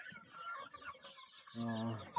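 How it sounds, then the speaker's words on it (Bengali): Chickens on a Sonali poultry farm cluck as they eat scattered feed, with close, steady clucking that swells louder near the end and a sharper call at the very end. "মুরগিগুলো বিন্দাস খাওয়া দাওয়া করতেছে"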